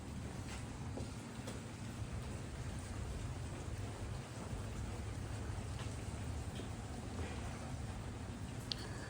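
Steady rain falls along a street in Prague, Czech Republic, a dense, even hiss of drops on hard surfaces that fills the whole stretch with no voices and only faint scattered drips standing out.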